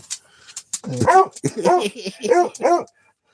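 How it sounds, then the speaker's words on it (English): Close indoor dog barking: four sharp, loud barks in quick succession, with faint talk just before them. "What are you barking at?"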